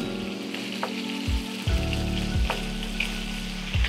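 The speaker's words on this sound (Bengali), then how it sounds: "আর যেগুলো হয়নি সেগুলো আরেকটু ভাজবো" Pomfret pieces frying in hot oil for fish in oyster sauce, a loud close crackling sizzle with a low hum underneath and a few brief clatters of a utensil against the pan.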